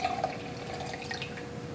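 Indicator solution poured into an oscillating chemical reaction, giving a short, soft splash and trickle of liquid, faint and close, with no talking.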